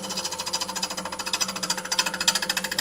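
Bowl gouge cutting a spinning wooden bowl on a lathe, giving a steady, rapid rhythmic chatter that pulses throughout, close and moderately loud with no talking.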